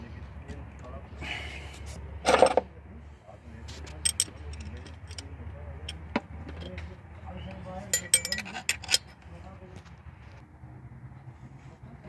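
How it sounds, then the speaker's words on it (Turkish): A wrench tightening an exhaust manifold stud nut on a Renault 9, giving metallic clinks, taps and scrapes of tool on metal, with one louder clank early on and a person talking throughout. "en arkadaki somundan tutarak vidamızı güzelce sıkacağız"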